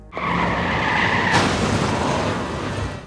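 A car in a film scene skids with a loud, sustained tire squeal that ends in a sudden crash into a pole, followed by continuous rumbling noise.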